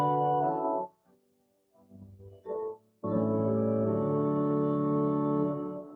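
Organ plays the closing phrase of the hymn tune Lauda Anima, sustained chords with a brief quiet gap and softer notes before a full, rich final chord held for several seconds, alone without talk.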